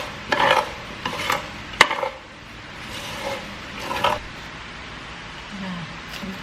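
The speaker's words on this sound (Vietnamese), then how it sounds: "Các bạn trộn đều lên để cho đường ngấm đều vào dừa." Grated coconut being stirred together with sugar for Vietnamese coconut jam, producing a few scattered scraping and clinking strokes against the bowl. A sharp knock comes partway through, and a soft voice can be heard faintly underneath.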